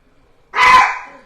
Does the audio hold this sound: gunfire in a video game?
no